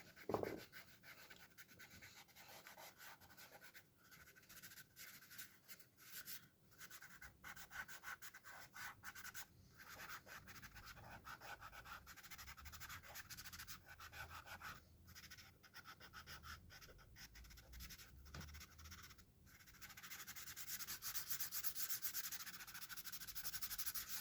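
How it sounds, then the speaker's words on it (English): Fingers rub soft pastel into paper in a quiet, close scratchy swishing that continues in irregular strokes with brief pauses, growing a little stronger toward the end. "I'm just rubbing those in as well"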